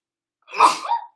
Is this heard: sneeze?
yes